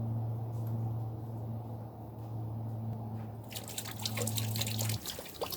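Water running and dripping from a tap for gold panning in freezing weather, a steady close trickle with a low hum beneath, splashing more brightly near the end.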